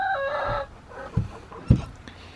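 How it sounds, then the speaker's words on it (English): Chickens in a coop give a short crow followed by a few close, scattered clucks, with quiet pauses between the sounds. "Chickens and more chickens."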